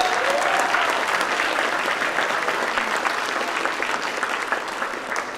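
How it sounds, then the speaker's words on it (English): Sustained applause from a crowd at an Army birthday event with an Army band, a dense, even roar of clapping that holds steady and fades only slightly toward the end. "give me another round of applause, please, for Staff Sergeant Solik"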